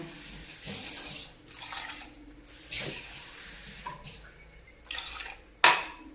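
Water runs and splashes into a metal pot in short bursts, with faint clinks of utensils and a sharp knock near the end.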